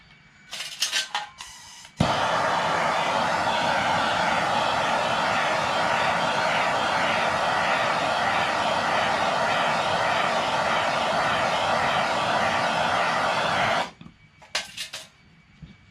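A handheld torch roars continuously and close for about twelve seconds while lighting charcoal in a Weber-style kettle grill, framed by brief handling clatter before and after.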